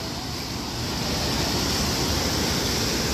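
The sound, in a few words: forceful flow of the Godavari river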